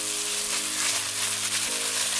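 Chili bean paste with garlic stir frying in a hot wok, a dense, steady close sizzle with a low hum underneath, short and without talking.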